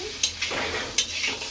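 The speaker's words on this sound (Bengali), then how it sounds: "উপর নিচে একটু ভালো করে নাড়াচাড়া করে নিই।" Potatoes cooked soft are stirred in a pan: a short, soft scrape and shuffle with a few light clinks of the spoon against metal. A faint sizzle sits underneath, and no one speaks.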